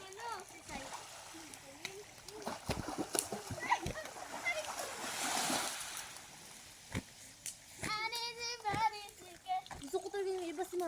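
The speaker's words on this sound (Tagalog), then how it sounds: "Naligo na si Jangjang." People splashing while swimming in the sea at night, irregular close splashes and water sloshing mixed with lively voices and children's chatter, louder bursts near the end.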